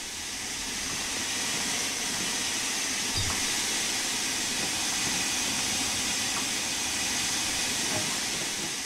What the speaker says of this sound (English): This ensures you'll get the maximum power to get the train moving.